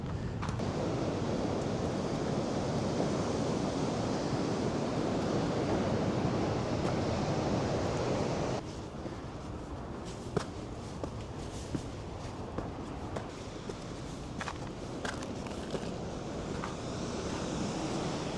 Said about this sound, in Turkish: Dalgalar nasıl geliyor öyle ya?